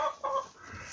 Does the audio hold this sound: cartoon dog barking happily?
no